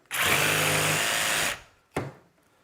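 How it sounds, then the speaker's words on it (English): A power tool cuts relief cuts into pipe ends: a loud, close, high whine runs for about a second and a half, then a short second burst follows after a pause. "So I'm putting just some relief cuts in the ends here."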